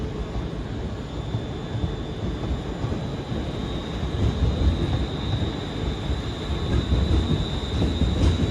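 ScotRail class 380 train rolls into Glasgow Central, a continuous heavy rumble with a faint high whine building slightly as it draws near, with no voices over it.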